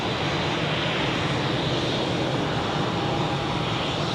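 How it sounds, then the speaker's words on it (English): An EasyJet Airbus A319 at Zurich airport gives off a loud, steady engine roar that fills the whole stretch without a break, with no talking over it. "We have an EasyJet A319 to Palma,"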